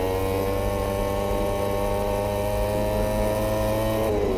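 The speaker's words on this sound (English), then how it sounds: "He was winding power into that factory Yamaha" A brand-new factory Yamaha M1 MotoGP racing engine at the 2018 Valencia Grand Prix holds a steady, loud, continuous mechanical drone with a slight rise in pitch near the end.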